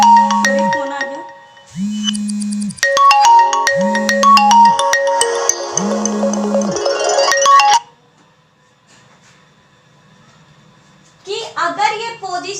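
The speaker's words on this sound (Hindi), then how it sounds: "तो फोन आ गया" A phone ringtone goes off during a chemistry lecture on coordination compounds, a loud repeating melodic tune with pulsing low tones that plays for several seconds, stops abruptly, and is followed by brief speech.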